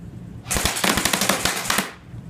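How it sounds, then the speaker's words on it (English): Lancer Tactical M4 airsoft rifle firing a short full-auto burst, a rapid run of sharp close cracks lasting about a second and a half. "right now here we're gonna go with a 10-second, maybe a 5-second interval of full auto"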